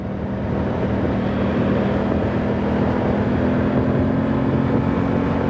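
An Aprilia Tuono 660 Factory twin-cylinder motorcycle pulling away, heard as a steady, loud engine drone with a low rumbling hum and wind noise that holds constant throughout.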